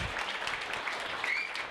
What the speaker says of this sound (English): So, another round of applause for we have our guests Yuki Nakamura and Adam Waxman for tonight.